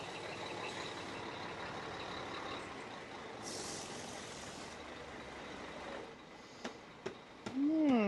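A truck near a crane on a building site rumbles steadily at a moderate distance, then a burst of air-brake hiss and a few sharp clunks follow, with a rising tone at the end.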